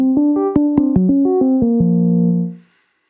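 A default preset on the VirSyn Tera Pro synthesizer plays a short run of clean, bright plucked notes, about a dozen in quick succession before the last one rings out and fades to silence.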